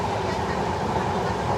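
Padatik Express, train 12378 between New Jalpaiguri and Sealdah, heard from a sleeper class coach at speed: a loud, continuous roar of wheels on rails with dense rattling and no speech.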